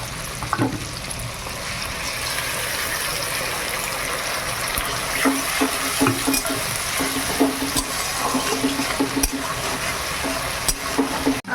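Onion, tomato, ginger and garlic fry in a pan, a moderate sizzling hiss with scattered clinks and stirring knocks, steady and close, with no talking.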